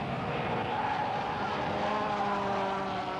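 Touring race cars roar past at Killarney circuit in a 1993 Group N race, a dense continuous engine drone with no breaks, fairly distant and steady throughout.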